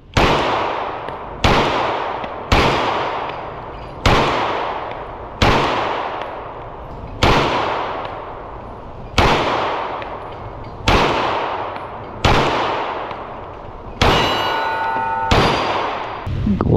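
A Polymer 80 pistol build firing eleven loud, sharp gunshots at a steady pace outdoors, each crack trailing off in a short echo.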